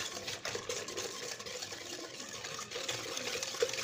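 Sugar being stirred into water, liquid swirling and sloshing steadily with a faint clinking texture, continuous and close, no voices.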